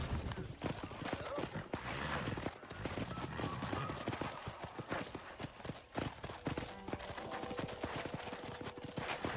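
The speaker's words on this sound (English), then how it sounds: "Let's see if we can't wrangle some horses." Horse hooves clop steadily with occasional whinnies in Red Dead Redemption on Xbox 360, with voices talking over the busy outdoor game sounds.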